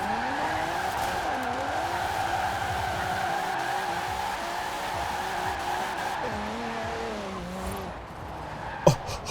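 A retro Alfa Romeo race car in Forza Horizon 4 accelerates hard, its engine note climbing and dropping while tyres squeal in a sustained skid, ending with a brief sharp knock.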